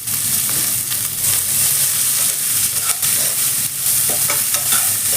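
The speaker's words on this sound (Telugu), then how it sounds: "ఉల్లిపాయలు వేసుకోవాలి మంచిగా కట్ చేసుకున్న ఉల్లిపాయలు" Chopped onions sizzle steadily in a hot pan with occasional stirring scrapes, a continuous loud frying hiss that fills the whole stretch, for a green chili and mattikaya curry.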